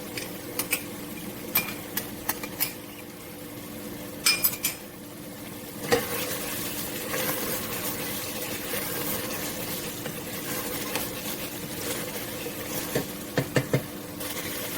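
Garlic frying in a pan for Ethiopian meat firfir, with scattered clinks of a utensil against the pan over a low steady sizzle.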